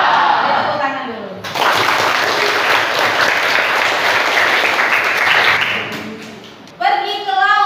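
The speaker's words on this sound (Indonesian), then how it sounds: "Tepuk tangan dulu." Classroom applause from students bursts in after a teacher's greeting, a dense burst of clapping lasting several seconds, with talking before it and a voice resuming as the clapping fades.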